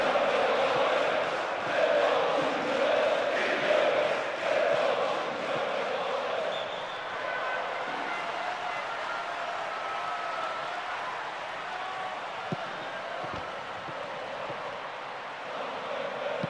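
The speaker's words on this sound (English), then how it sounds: "The crowd are roaring themselves hoarse." A stadium crowd roars in the PES 2009 football video game on Windows PC, a dense sustained rumble of cheering voices that eases slightly in intensity while continuing throughout.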